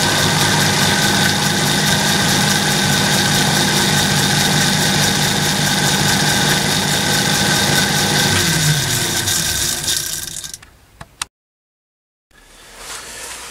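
Lathe running on a 7-inch pulley with a link belt, a loud, steady mechanical hum and whir with a faint rhythmic vibration, holding for about ten seconds before winding down, falling briefly silent, then picking back up.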